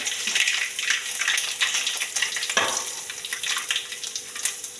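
Mustard seeds in hot oil for a home-style curry: a dense, steady crackling sizzle close by, with one brief thud partway through, no talking.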